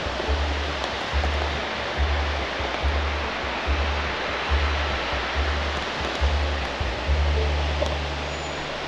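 Rushing water roars steadily in a broad, constant wash with a low rumble underneath, like a nearby waterfall.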